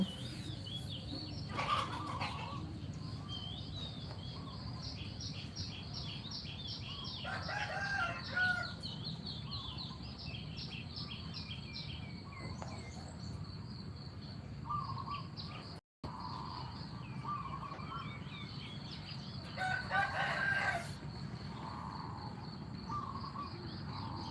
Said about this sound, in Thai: เช้ามาก็ปล่อยไก่ ปล่อยไก่ปล่อยเจ้าเจ้าไปวิ่งเล่น